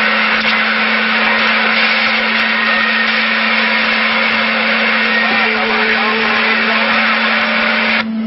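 Constant band-limited hiss and garbled overlapping transmissions of distant foreign stations bleeding onto CB radio channel 27 during long-range propagation, a loud unbroken roar with a steady hum tone running throughout.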